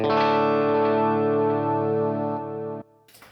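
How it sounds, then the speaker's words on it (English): A sustained electric guitar chord rings out with a shimmering dotted eighth delay effect, holding for nearly three seconds before cutting off abruptly, followed by brief rustling. "Some dotted eighth delay."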